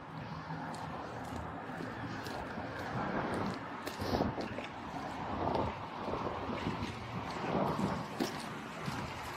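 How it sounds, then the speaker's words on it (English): Strong wind gusts roar steadily outdoors in freezing cold weather, a dense, buffeting rush that swells and eases over several seconds with no clear talk. "it's super cold outside and it's windy"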